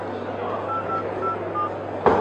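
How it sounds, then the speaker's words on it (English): A Firefox OS phone dialer gives three short beeping key tones, spaced apart, over the noisy hum of a crowded trade show floor. A sharp clatter follows near the end. "So here we have our phone dialer."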